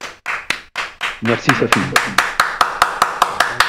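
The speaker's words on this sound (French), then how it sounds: "J'applaudis." One person claps hard at a steady pace, close and loud, a dozen or so sharp claps in a row while a voice speaks briefly over the start.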